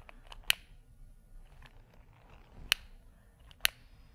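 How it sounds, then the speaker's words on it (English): A Microtherm torch igniter clicks several times, sharp isolated snaps spread out over a few seconds against a quiet background, with a couple of fainter ticks between them. "2 clicks and you'll see an orange flame inside the torch"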